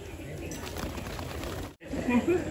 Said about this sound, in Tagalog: Ang dami kalapati dito mga kalapatids